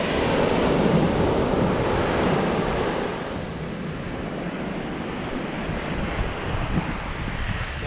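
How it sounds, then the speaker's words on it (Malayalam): Ocean waves crash and wash ashore on Ettikulam beach near Ezhimala in Kannur, a loud continuous surf roar with wind buffeting the microphone, easing slightly midway. "കടലിൻ്റെ തിരമാലകൾക്ക് ഭയങ്കര ശബ്ദമാണ് കേട്ടോ"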